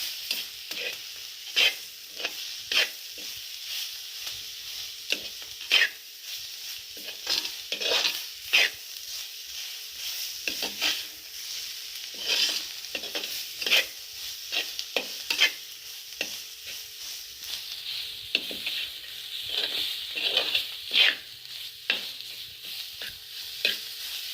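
Spice masala of chili powder, coriander powder, turmeric and garam masala sizzles in a pan for paneer curry. Repeated scraping spoon strokes sound over a steady, quiet frying hiss, with no talking.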